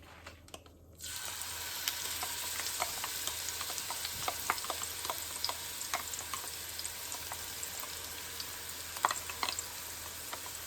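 Chopped tomato dropped into hot oil with bay leaves, black cardamom and cloves, a sudden loud sizzle that settles into steady crackling frying with scattered pops and stirring clicks, close up and without talk.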